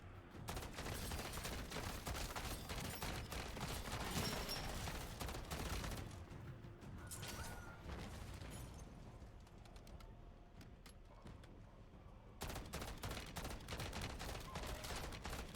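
Rapid gunfire fills the zombie mode of Call of Duty: Modern Warfare III, dense bursts of shots that stop for a few seconds in the middle and then resume, with keyboard-like clicks faint beneath.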